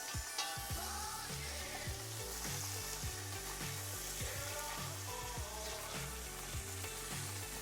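Italian sausage, previously frozen, turned over and frying in a pan for a Sicilian spaghetti sauce, giving a steady, loud sizzle with scraping and clatter of flipping throughout.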